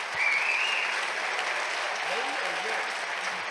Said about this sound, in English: And I certainly am hearing the applause